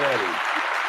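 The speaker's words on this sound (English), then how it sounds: "I'm gonna give you a round of applause" Applause from a crowd of barbers at the Ohio State Barber Expo, a short burst of clapping that starts strong and carries on under a voice for under a second.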